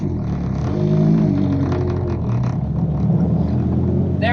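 A modified Smart car with a welded differential drives along with no steering wheel fitted, its engine droning steadily and loudly throughout, with faint rattles over the continuous hum.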